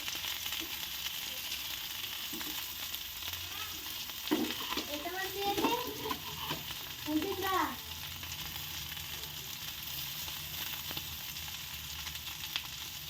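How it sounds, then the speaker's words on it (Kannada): Fish frying in a pan as part of a Mangalore-style fish meal, a faint continuous sizzle with a few stirring scrapes and a brief burst of background voices midway. "ನೋಡಿ ಮೀನು ಫ್ರೈ."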